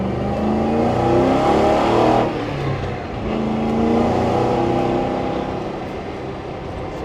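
Mercury M250 crew cab truck cruising at about 60 mph, its engine giving a steady, close drone with layered harmonic tones and a slight dip in loudness partway through. No talking.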